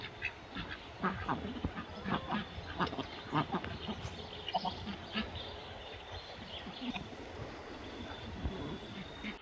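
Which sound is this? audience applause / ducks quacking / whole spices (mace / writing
ducks quacking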